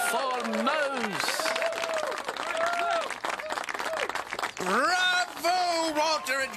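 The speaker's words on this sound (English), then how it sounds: "Applause for Mouse!" Studio audience clapping and cheering on a children's TV show, quick bursts of applause beneath lively character voices and music, close and bright throughout.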